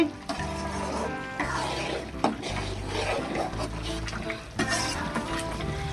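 Fish curry with drumsticks simmers in a pot, with a steady bubbling and stirring hiss running throughout and occasional clinks of a spoon or lid.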